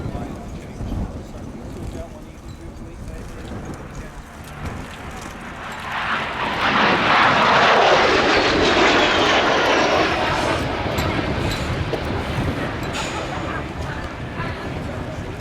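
A Mikoyan Gurevich MiG-15UTI jet flies past at an air show, its engine roar swelling from a distant hiss to a loud broad rush midway, then lingering as it recedes, with wind buffeting the microphone and faint crowd sounds.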